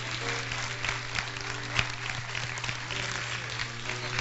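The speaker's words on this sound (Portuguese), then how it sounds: "eu quero que você dê um forte aplauso enquanto eu dou um abraço representando você" A church congregation at a vigil bursts into steady applause, a continuous wash of many hands clapping with a low steady hum beneath and occasional sharper claps.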